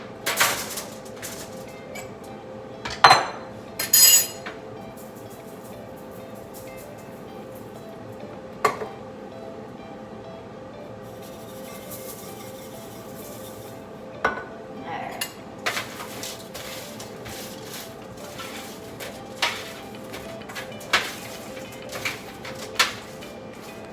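A spoon or utensil scraping and clinking against a pan while almond-crusted Creole salmon is stirred at home, scattered sharp metallic knocks over a quiet background.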